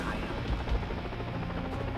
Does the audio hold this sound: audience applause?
no